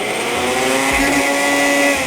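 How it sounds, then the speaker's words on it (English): A blender runs steadily, loud and close, processing ground pork with vegetable and sauce ingredients into a blend; the motor whirs without pause throughout. "Into the blender we go."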